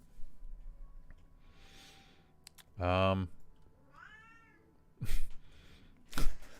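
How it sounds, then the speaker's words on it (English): Two cats meow indoors, a few separate loud meows with pauses between them, while a person talks quietly in the background. "yes, we have two very, very, very vocal cats"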